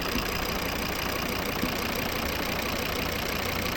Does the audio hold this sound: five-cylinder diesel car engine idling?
yes